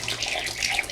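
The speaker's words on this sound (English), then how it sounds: "I'm rinsing nicely using clean running water." Clean tap water runs steadily to rinse soap off skin, a close continuous splashing flow with no talk.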